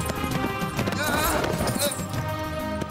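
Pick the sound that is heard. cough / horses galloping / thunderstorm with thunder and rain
horses galloping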